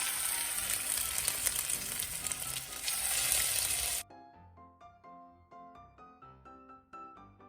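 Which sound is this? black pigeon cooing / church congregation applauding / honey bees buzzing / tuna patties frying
tuna patties frying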